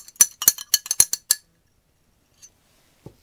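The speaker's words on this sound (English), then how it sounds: "Let's just stir it until it's all dissolved." Sodium bisulfate solution is stirred in a glass container, with a quick run of about nine sharp clinks of a stirrer against glass, then a pause and two faint taps.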